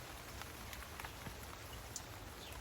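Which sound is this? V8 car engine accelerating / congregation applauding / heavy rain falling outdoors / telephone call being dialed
heavy rain falling outdoors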